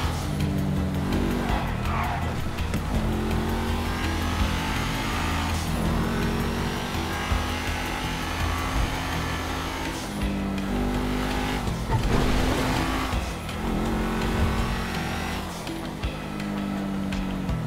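Car driven in the video game GTA V Online, a continuous loud engine roar that rises and falls as it revs and shifts, with brief tire noise and passing-traffic swells throughout.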